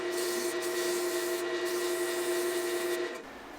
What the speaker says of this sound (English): see if I can't finish that off with some sandpaper